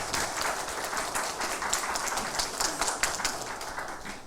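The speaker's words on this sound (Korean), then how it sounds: "다시 한번 감사의 박수 하겠습니다." Congregation applauding a church choir at a university chapel service, a dense, steady wash of many hands clapping at moderate distance, continuing evenly throughout with no speech.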